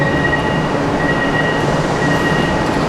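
A metro train in Kuala Lumpur, Malaysia, rumbles steadily throughout, with a constant broadband roar and a thin high whine from the running rails and motors, heard from inside or close by, with no voices.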